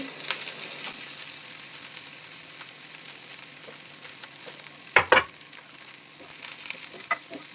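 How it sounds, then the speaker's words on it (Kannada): Fenugreek leaves frying in hot oil in a pan, a steady bright sizzle throughout with a couple of louder stirring scrapes near the middle and a few more toward the end, no talk. "ಆಮೇಲೆ ಮೆಂತ್ಯ ಸೊಪ್ಪು ಫಸ್ಟಿಗೆ ಫ್ರೈ ಮಾಡ್ಕೊಳ್ಬೇಕು ಇದರಲ್ಲಿ, ಎಣ್ಣೆಯಲ್ಲಿ."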